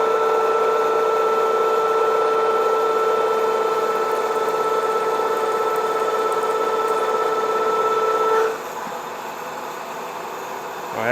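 Radial drill boring a first hole at 325 RPM with a 17/32 drill in preparation for tapping 5/8-11 threads, a steady loud machine whine with strong tonal hum that drops abruptly near the end as the cut stops.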